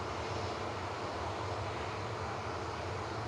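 Steady, loud jet engine roar from an airliner on Manchester Airport's runway 23 left, a continuous broadband rumble holding constant without a break and no talk over it.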